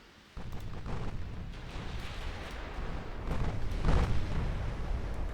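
Ship guns fire in a naval video game as a dense, continuous rumble of booms and blasts that swells louder toward the end, with no talk.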